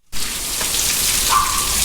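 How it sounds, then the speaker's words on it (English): Steady rain pours down outdoors as a dense, even hiss that starts abruptly and holds at a loud, constant level with no voices over it. "All right, so the rain is done."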